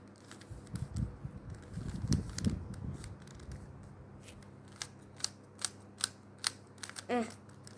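Quick plastic clicks and clacks of a Rubik's cube being twisted, a dense flurry of turns followed by sparser sharp snaps, close and fairly quiet.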